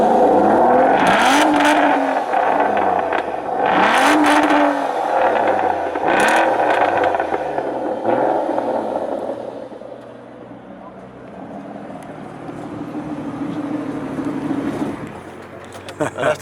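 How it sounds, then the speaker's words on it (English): An Aston Martin DB9 with a V12 engine revs at an exclusive sports car meeting in the Algarve, giving several loud, rising bursts of revving that fade toward a lower whir. "that's the true sound of a V12"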